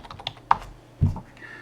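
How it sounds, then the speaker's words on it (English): Computer keyboard being typed on while filling in a form, a few scattered soft key taps and one heavier thump, close and quiet. "My typing skills aren't great."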